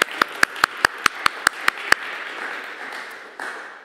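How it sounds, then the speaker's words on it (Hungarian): Sharp, evenly spaced claps ring out about ten times, then fade into a softer, scattered patter of applause from a church conference audience. "egy nagyon nagy taps a fordításért"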